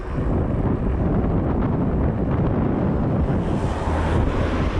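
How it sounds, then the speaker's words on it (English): Strong headwind roars across a microphone while riding an e-bike along a beach, a dense, steady blustering rush that fills the whole clip with no voices. "And then literally I turned the cameras on and I get a headwind."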